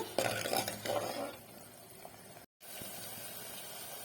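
Green turkey berries stir-fried with garlic in a pan, with a spoon scraping and clinking against the metal early on, then a softer steady sizzle, broken by a brief silent gap.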